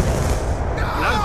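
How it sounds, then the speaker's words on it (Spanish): Grenade blast during online Call of Duty Black Ops 2 multiplayer on Wii U, a dense loud burst of booming gunfire-like noise filling the whole short moment, with game sounds layered around it. "¡Lanzo granada!"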